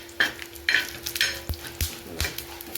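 Poppy seeds and white sesame seeds dry-roasting in a pan, with a soft steady sizzle and crackle and several sharp scrapes and taps of a spoon stirring them against the pan, fairly quiet and close.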